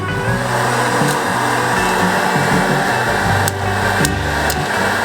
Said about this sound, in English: You can hear it popping, starting to pop.